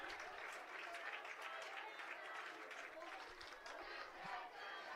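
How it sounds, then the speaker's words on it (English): A Sturgis football crowd roars and cheers after a penalty flag at a high school game against Yankton, a dense, sustained wash of shouting and applause that fills the whole stretch with no single voice standing out. "And judging by the Sturgis crowd reaction"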